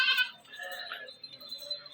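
Upright-eared Barbari Teddy goats bleating in a livestock lot: a strong, close bleat at the start, followed by quieter, wavering calls that fade into soft background noise.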